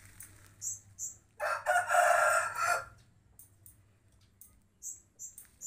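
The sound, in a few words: Bangkok chickens, rooster crowing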